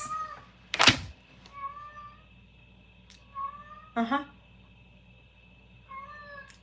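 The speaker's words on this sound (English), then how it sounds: "Y'all hear my cat. He heard me get up." A pet cat meows several times indoors, short tonal calls spread over a few seconds, with a sharp thump and a brief voice in between.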